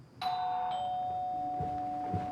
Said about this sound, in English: the mailman rings Linda and Fred's doorbell